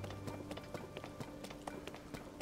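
Horse hooves in The Legend of Zelda: Tears of the Kingdom: quick, light clops tap along in an uneven trotting rhythm over a steady background hum, with a few faint voice-like sounds mixed in.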